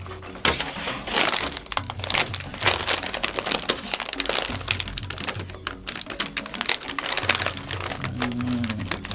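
A bag of St Mary's potato chips crinkles and crackles continuously as it is handled and torn open, a dense, close rustle with no talk.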